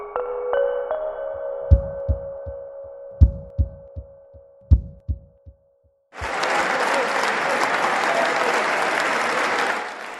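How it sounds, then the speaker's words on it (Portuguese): Deputies applaud the Assembly President's speech at the 25 de Abril ceremony in Portugal's parliament, a loud sustained burst of clapping that starts abruptly after a stretch of tones and sparse knocking. "O que está a ouvir são os aplausos dos deputados ao discurso do Presidente da Assembleia da República nas cerimónias do 25 de Abril"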